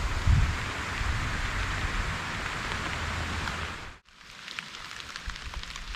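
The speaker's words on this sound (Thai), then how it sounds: "แล้วฝนก็ตกด้วย รอฝนหยุดเผื่อปลาเข้าอีก" Steady rain falls outdoors at a fishing spot, a dense continuous hiss that cuts out abruptly near the end, then returns as a lighter patter with scattered drops.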